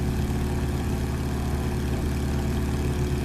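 Seven-cylinder radial aircraft engine in a flight simulator, a steady, loud low drone with a rough, even throb and no break throughout.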